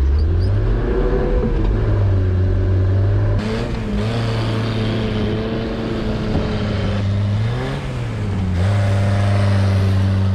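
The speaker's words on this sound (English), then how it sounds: "Little engine's running great though." A 35-year-old mini U-Haul box truck, left sitting for years, runs loud and close, its engine droning and revving up and down in several swells with no talk.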